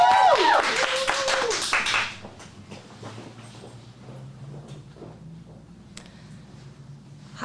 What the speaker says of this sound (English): big round of applause for Olivia